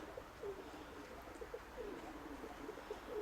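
A pigeon with damaged, holed wings coos softly in a series of low, repeated calls. It is faint against a steady background hiss, with no talk.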